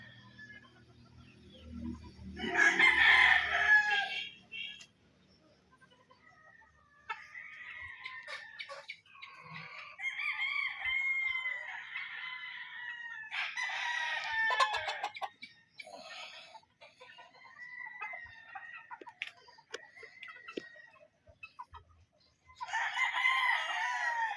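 Raptor Sweater gamefowl roosters on a game farm crow repeatedly, several loud calls from nearby birds overlapping and answering one another at irregular intervals, with quieter clucking in the pauses.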